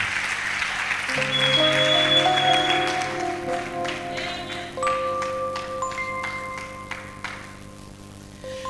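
A church congregation claps to welcome a preacher, a dense wash of applause swelling early and then thinning out while chiming music tones ring over it.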